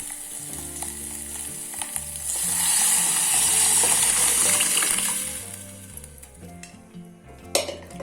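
Phodni tempering hitting a pan, with a loud hissing sizzle that swells in the middle and fades, surrounded by frying crackle and metal pan and utensil clinks, close and without speech.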